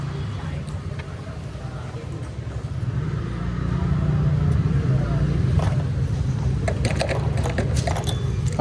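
A car rolls forward slowly at a petrol pump, its engine rumbling low and close and rising slightly as it moves. A voice is heard faintly at times.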